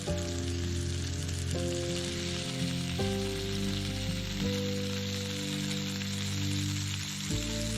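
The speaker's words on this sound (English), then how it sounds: "it's a good sizzle." Steady, close sizzling of bread on hot coals at a campsite in Tyresta National Park, a continuous crackling hiss with low tonal hum underneath, no voices.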